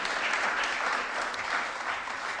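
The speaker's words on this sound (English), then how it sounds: "everybody else, give them a nice warm round of applause." A live audience at a Christmas lecture breaks into a warm, steady round of applause, dense and even for a couple of seconds with no voices over it.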